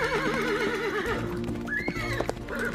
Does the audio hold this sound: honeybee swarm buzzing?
no